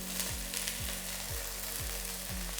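Finely diced onion and carrot fry in extra virgin olive oil with a steady, soft sizzle throughout, broken by a few light scraping stirs at an even pace; no voices.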